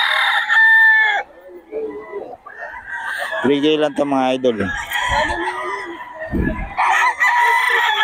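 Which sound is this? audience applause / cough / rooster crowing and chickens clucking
rooster crowing and chickens clucking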